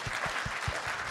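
A conference audience applauds after a talk, a brief burst of dense, even clapping with a few heavier thumps underneath, moderately loud and without voices.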